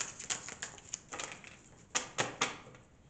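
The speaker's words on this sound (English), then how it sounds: "Let me shuffle through this again." Tarot cards are shuffled in a quick run of crisp riffling bursts and taps, some sharper than others, close and fairly quiet with short pauses between.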